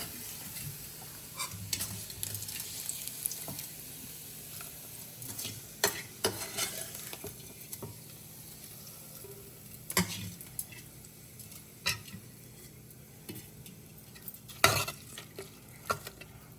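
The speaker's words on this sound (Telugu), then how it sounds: "ఇప్పుడు స్టవ్ ఆఫ్ చేసుకొని మనము పప్పులో కలుపుకుందాం" Fried onions and garlic are stirred into a pot of medicinal-leaf dal, with soft continuous sizzling and scraping and a scattering of light spoon taps against the pot. No one speaks.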